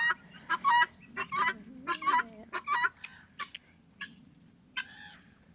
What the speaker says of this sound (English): that sound there, that's a female guinea.